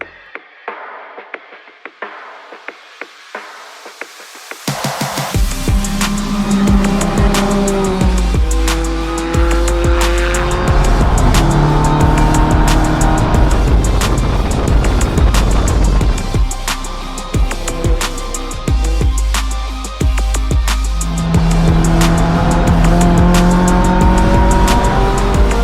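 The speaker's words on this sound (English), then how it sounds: "the car has been pretty great. We're turning laps." A race car laps at New Jersey Motorsports Park: after a quiet stretch of ticks and clicks, a loud engine bursts in and revs hard through rising and falling gear changes for about twenty seconds.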